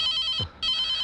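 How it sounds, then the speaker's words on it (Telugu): A cell phone ringing with a bright electronic trill in two bursts separated by a short gap, close and fairly loud, with a brief low thump between them. "నా సెల్ ఫోన్ ఎప్పుడు రింగ్ అవుతూనే ఉంటుంది."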